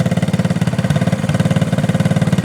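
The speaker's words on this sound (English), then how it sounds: "I started off in 2nd gear." A 1971 Honda SL70 enduro with a rebuilt 70cc engine pulls uphill in second gear, its small single-cylinder motor putting out a steady, rapid, throbbing drone up close with no speech.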